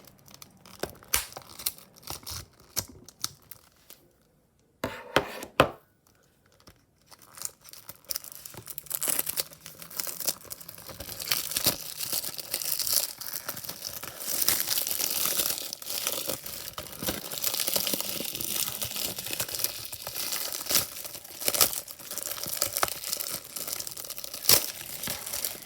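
Plastic wrapping being torn and crinkled off a Black Adam DVD case, a long run of close, continuous crackling and tearing with brief pauses, no talking.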